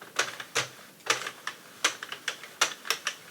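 Sharp mechanical clicks in an irregular rhythm, a dozen or so clacks close by, from a Sentro circular knitting machine running with tight tension.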